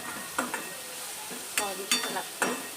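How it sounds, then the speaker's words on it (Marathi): Cluster beans (gavar) are stirred into masala in a frying pan, with a soft sizzle underneath and several distinct scraping strokes of the spatula against the pan. "मस्त अशी मिक्स करून घ्यायचं आहे गवार व्यवस्थित मसाल्यामध्ये"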